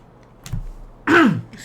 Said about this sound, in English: Excuse me, still got a bit of a cough